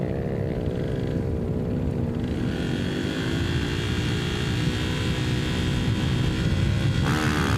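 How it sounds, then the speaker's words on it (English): Loud 500cc motorcycle engine at the Finke Desert Race droning steadily with pitch slowly rising as revs climb, a harsh continuous roar up close, no speech. "So hearing those revs build up."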